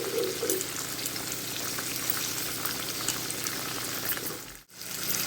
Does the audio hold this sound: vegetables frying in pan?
yes